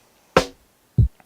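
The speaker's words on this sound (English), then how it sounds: "which is the actual snare sound" A sampled snare drum hit, a sharp bright crack followed a moment later by a lower, thuddier hit, both close and isolated.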